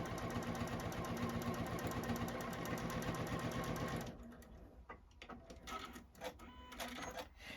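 A JUKI sewing machine back tacks an apron seam with a rapid, even mechanical stitching chatter for about four seconds, then stops, leaving quieter handling clicks and rustles.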